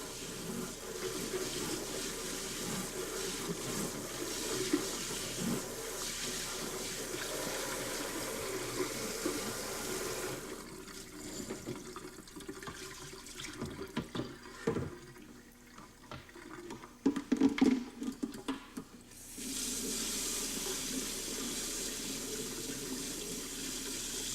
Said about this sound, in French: vous devez rincer à l'eau chaude du robinet